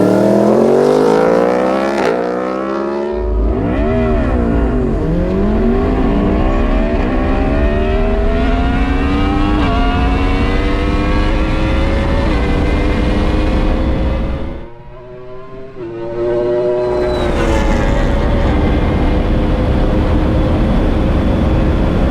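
A McLaren 720S and a Yamaha R1 launch in a drag race, engines screaming loudly through rising gear pulls with brief drops at shifts, the revving climbing repeatedly for about twenty seconds.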